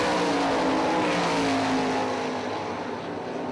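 Sprint cars racing at Hartford Speedway in Michigan, engines roaring loud and continuous with a steady high-revving drone as cars pass, holding strong throughout with no talk.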